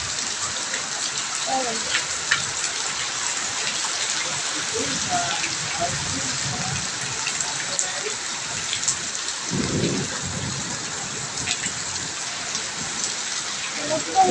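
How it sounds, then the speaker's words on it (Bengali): Heavy rain pours steadily in a dense hiss, with brief low rumbles rising underneath now and then. "কত বৃষ্টি জায়গায় ওই জায়গায় পানি আর পানি, প্রচুর বৃষ্টি"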